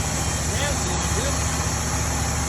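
A Ford Thunderbird engine idles after carburetor work, giving a loud, steady, unbroken drone close to the listener while someone speaks over it.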